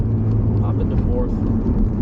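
A 2004 Honda CR-V with a manual gearbox drives in fourth gear, its engine and road noise forming a loud, steady low rumble from inside the cabin, with a voice talking over it.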